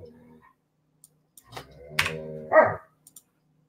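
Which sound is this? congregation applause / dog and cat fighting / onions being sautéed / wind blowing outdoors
dog and cat fighting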